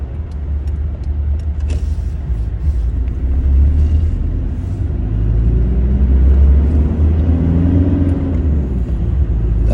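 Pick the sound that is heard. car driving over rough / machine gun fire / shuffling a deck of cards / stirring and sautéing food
car driving over rough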